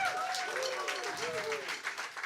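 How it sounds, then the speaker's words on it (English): Audience applause for a jazz band at the Side Door Jazz Club, soft and steady, with a sustained tone ringing through it, likely an instrument or voice, over two seconds. "How about a nice round of applause for this band?"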